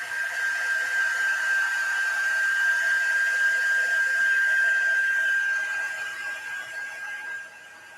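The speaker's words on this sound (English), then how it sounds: "I'm going to take a minute just to hit this with my heat tool because it's not quite dry yet." A heat tool blows with a steady high whine and airy rush while drying mixed media artwork, running continuously for several seconds before easing off at the end.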